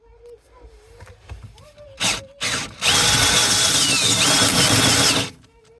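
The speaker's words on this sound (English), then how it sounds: "Just running this through on speed 1 on the drill," Power drill on its lowest speed boring slowly through a minibus floor with stainless steel among its layers, oiled; a loud, steady grinding whine for several seconds after a few short bursts, with faint background noise before.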